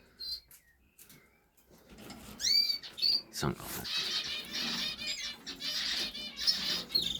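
Zebra finches in an aviary, freshly cleaned and bathed, chirp in bright, rapid bursts with brief wing flapping, growing busier after a quiet start, while a person speaks briefly over them.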